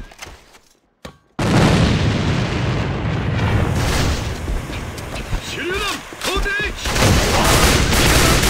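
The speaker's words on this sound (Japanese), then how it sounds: "手榴弾投擲。" A grenade going off in the AVA first-person shooter, a sudden loud boom that swells into a long roaring rumble amid gunfire, with brief voice chatter over the noise.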